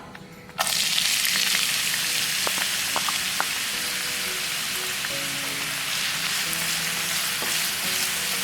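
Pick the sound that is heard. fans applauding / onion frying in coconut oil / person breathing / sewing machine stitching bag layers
onion frying in coconut oil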